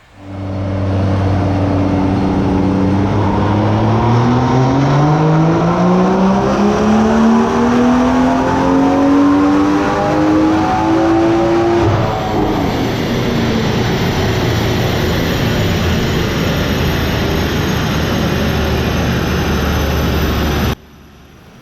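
A BMW M140i with a stage 1 tune on a dyno power run: a loud engine roar climbs steadily in pitch for about twelve seconds, then holds as a rough, sustained drone before cutting off abruptly.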